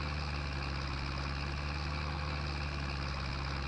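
A tractor in Farming Simulator 22 idles in a steady, low, droning rumble, continuous and close, with no speech over it.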